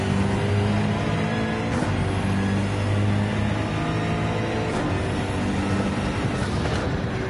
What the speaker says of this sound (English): So Speedy in the BMW, chasing Ghost in the Porsche 911.